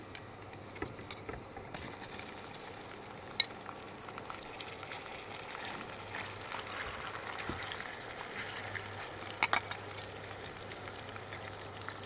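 Marinated chicken and onions frying in oil for Mughlai chicken, a soft steady sizzle with scattered scrapes and clicks of stirring, no talk over it.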